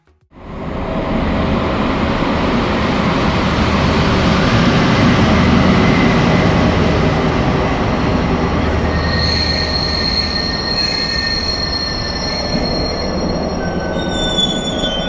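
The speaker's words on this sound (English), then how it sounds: "here you can see my train arriving at the station of Radolfzell" A Class 218 diesel locomotive hauling n-cars rumbles loudly into Radolfzell station and grows steadily louder, then its wheels squeal high and long as it slows.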